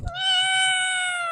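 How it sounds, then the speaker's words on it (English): A cat gives one long, loud, drawn-out meow close by, sustained and steady after a brief thump at the start, with no talking. "Oh, you gotta see this kitty, and then we gotta feed her."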